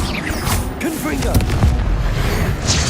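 Confringo fire spell in Hogwarts Legacy, a booming blast with crackling and mechanical rumble over a dense game soundscape, with a voice speaking at the same time.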